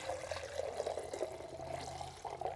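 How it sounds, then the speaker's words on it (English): Water poured from a container into the cup of an HVLP spray gun, a soft continuous splashing trickle heard up close at low level. "I'm just gonna pour some water in this guy."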